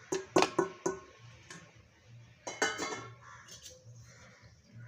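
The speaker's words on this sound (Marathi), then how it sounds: "आता पीठ भाजून घ्यायचं आहे आपल्याला." Multigrain flour dry-roasting in a pan for laddoos, heard as sharp metallic clinks and scrapes of a spatula against the pan in quick bursts, then quieter stirring with a low steady hum underneath.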